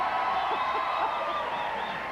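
Canned studio audience cheering and applause set off by a switch on a TV talk show, a steady wash of crowd noise with a few hooting whoops rising through it.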